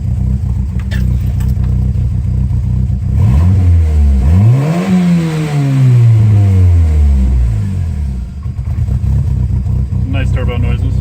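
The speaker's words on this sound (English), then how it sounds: "Nice turbo noises." Turbocharged 2.0L four-cylinder in a MK4 VW Golf/Jetta with MSD ignition coils revs up, rising to a peak and falling back down in one long sweep, with turbo whoosh and whistle over a steady idle, loud and close.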